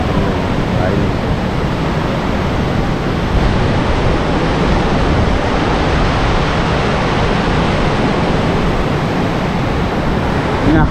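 The flooded Shivnath River near Bhilai, Durg, rushes loudly and steadily, a dense unbroken roar of water filling the scene close by.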